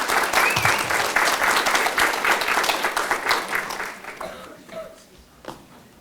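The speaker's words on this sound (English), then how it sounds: "Please give them another round of applause." An audience at an English Night stage event bursts into a round of warm applause, dense and sustained clapping that thins out and trails off into a few scattered claps.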